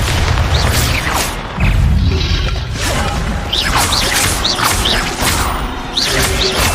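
Spell explosions booming in Hogwarts Legacy combat, loud repeated blasts and crashes with whooshing magical effects, continuous dense game battle noise.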